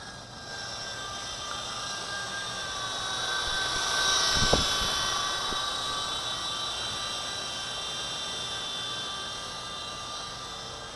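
A small V913 RC helicopter flies at night, its motor and rotor making a steady high whine and buzz that swells slightly midway, with a faint short click near the middle.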